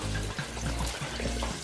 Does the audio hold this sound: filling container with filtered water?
yes